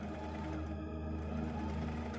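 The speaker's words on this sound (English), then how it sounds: "sew the two ends of the neck binding together with right sides facing to create a circle" A sewing machine stitches together the two ends of a knit neck binding for a Linden sweatshirt, running at a steady, continuous hum close up with no talking.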